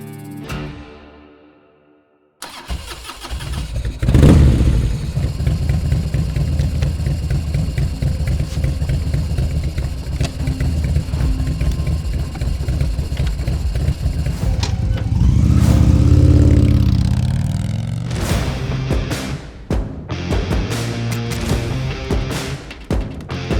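An Indian Chieftain motorcycle's PowerPlus engine starts after a brief silence, then idles with a deep steady rumble, swelling in a rev midway before settling again.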